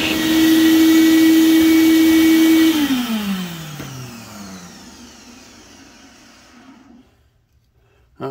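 A carbide-piloted cutter grinds the valve seats of Edelbrock E-Street big block Mopar cylinder heads with a loud, steady whine that holds for nearly three seconds, then drops in pitch as the tool spins down and fades to quiet.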